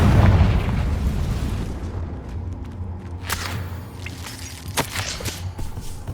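Confringo fire spell blast in Hogwarts Legacy, a booming burst at the start that decays into scattered crackles and thuds, fairly close with no voices over it.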